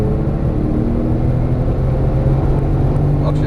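A Porsche Turbo S engine drones at full throttle, a loud, steady, close rumble heard from inside the car with no one talking.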